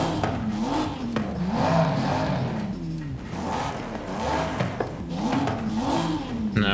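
A car engine and exhaust in the racing game Forza Horizon 5 revs loudly and continuously, its pitch swelling and dipping in repeated waves throughout.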